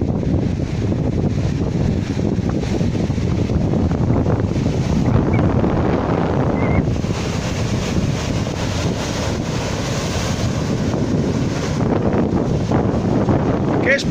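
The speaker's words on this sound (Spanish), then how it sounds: "Ahora ya hay olas." Loud rushing wind buffeting the microphone over surging Atlantic Ocean waves on the Costa da Morte coast, a continuous close roar with occasional swells of water.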